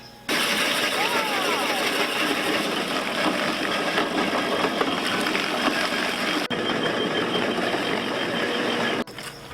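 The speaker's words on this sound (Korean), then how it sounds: "우리가 기계 소리가 아주 웅장하게 날 거예요." A grinding machine crushes unripe astringent persimmons into pulp for natural persimmon dyeing, a loud, steady mechanical roar running nearly the whole time with two brief dips near the end.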